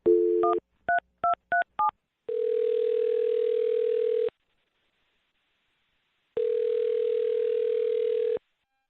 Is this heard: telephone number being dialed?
yes